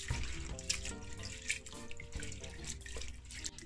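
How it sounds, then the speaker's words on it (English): Sea moss being rinsed under a running tap in a sink, a steady close splash and trickle of water with small drips, continuous throughout with no talking. "So we're gonna give it the first wash."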